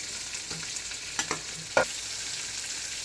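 Onions, tomatoes and curry leaves sautéing in a hot pan give a steady soft sizzle, with a few brief stirring clinks and scrapes standing out near the middle and end.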